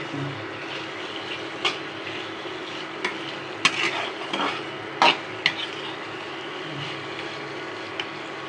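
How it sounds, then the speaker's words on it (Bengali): Liver sautéing in oil with onion, garlic and spices, a steady close sizzle and frying hiss with occasional sharp clinks of a spatula or spoon against the pan and stirring scrapes, no voices. "আমি তো পেঁয়াজ রসুন তেলের ওপর দিয়ে মশলা দিয়ে মেটে দিয়ে এখন কষছি"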